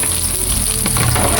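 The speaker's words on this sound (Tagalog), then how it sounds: "Gisa natin ang ating mga aromatics. Then, ang ating sibuyas." Onion and aromatics sizzle loudly in hot oil as they are sautéed for a chicken feet dish, a dense continuous frying hiss with a brief stir partway through.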